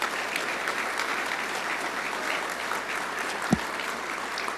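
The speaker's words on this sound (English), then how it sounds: "So a round of applause for Brad." Audience applause at an awards dinner, a steady wash of many hands clapping at moderate level, sustained throughout with one brief low thump near the end.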